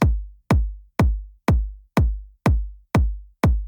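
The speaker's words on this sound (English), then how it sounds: "I've got a kick drum, and that kick drum sounds like this." Eight punchy electronic kick drum hits, layered from two samples, repeat at an even pace, each a sharp click that drops into a booming low tail.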